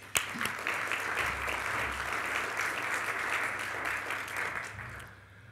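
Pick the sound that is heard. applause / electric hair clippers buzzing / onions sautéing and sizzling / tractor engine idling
applause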